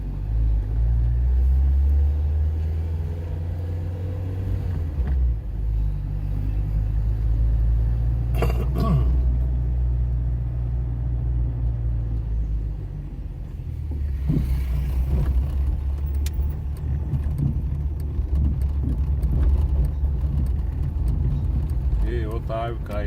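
A car engine rumbles low and steady at close range, driven through a heavy storm with strong wind and hail in Paraguaçu Paulista, while occasional voices are heard over the constant drone.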